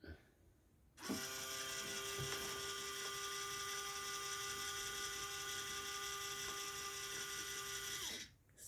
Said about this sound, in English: The little droid elevator, which I think is really cool.